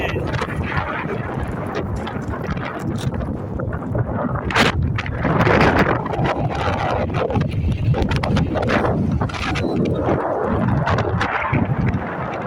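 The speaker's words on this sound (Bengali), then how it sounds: "তো বাতাস অনেক" Strong, gusty wind on a mountaintop roars and buffets continuously, loud and close, with rumbling bursts and no clear speech.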